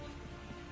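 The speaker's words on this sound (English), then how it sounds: "I hope you like the rain, 47." Steady rain in a video game cutscene, a dense even wash of falling drops with no break and no voices, fairly quiet throughout.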